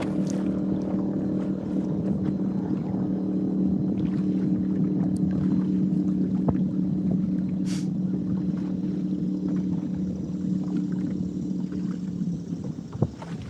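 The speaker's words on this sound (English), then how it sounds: "I don't know if y'all can hear that boat." A steady low motorboat engine drone runs throughout, mixed with wind noise, holding at a constant level without clearly approaching or fading, heard while catfishing on the water.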